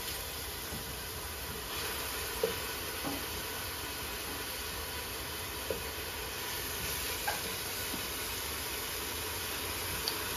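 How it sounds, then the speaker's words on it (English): Celery, carrots, onion and garlic cook in olive oil for a Bolognese sauce, a steady low sizzle with a high hiss throughout and a few faint clicks and taps of stirring. "right now she's cooking the celery, the carrots, the onion, and the garlic, and some olive oil"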